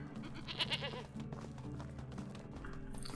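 A lamb bleats in Medieval Dynasty, a short wavering high-pitched cry heard faintly and briefly against a quiet background of low tones, with no talk.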